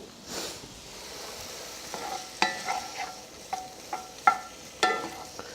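Lean, low-fat meat frying in olive oil in a pan, with a steady soft sizzle under a series of clinking stirs and scrapes that grow more frequent toward the end, close and fairly loud.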